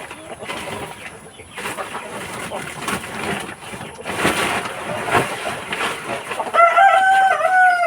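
Hungry free-range chickens squabbling loudly at close range, a dense mix of clucks, squawks and a rooster crowing, with a brief bit of speech over the din.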